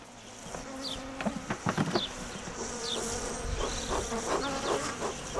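Honey bees swarm around a beekeeper's hives in spring, where a fragrant pine honey is made. The buzzing is steady and close, with individual insects droning loudly past the ear.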